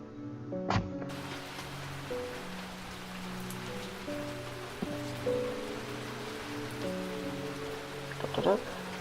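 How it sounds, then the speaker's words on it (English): Steady rain hissing softly on surfaces throughout, under a gentle tonal music bed, with a brief louder knock near the start. "It rained."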